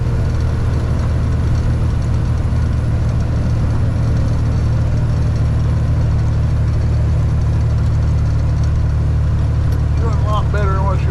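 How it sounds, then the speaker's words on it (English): A turbocharged vehicle engine pulls up a hill at around 60, producing a loud, constant low-pitched engine drone inside the cab, steady with no clear talk. "Hit this hill at about 60. Turbo wants to come like just like that."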